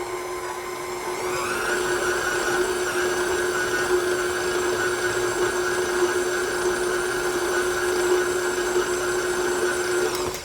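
An electric mixer whirs through orange butter cream filling, starting up and rising to a steady high-pitched motor whine that holds evenly for about ten seconds before cutting off.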